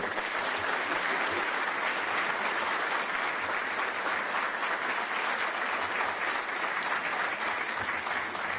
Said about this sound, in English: keep clapping for Kevin Warren